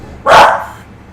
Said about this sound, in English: Beagles howl, bark, and there's no stopping them